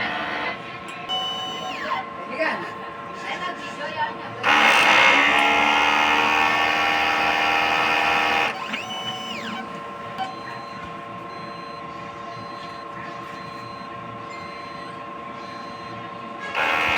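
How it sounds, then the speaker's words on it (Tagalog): A DTF printer runs its print head cleaning cycle, a loud whirring, pumping burst lasting a few seconds in the middle, set among steady machine hum, tonal beeps and pump noises before and after. "Head clean."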